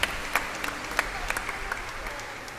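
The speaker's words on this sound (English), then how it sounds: "Let us clap our hands in thanksgiving to our Almighty Father." A church congregation at a university baccalaureate Mass claps hands in thanksgiving, a steady medium-loud wash of applause with a few sharper individual claps standing out, no talking.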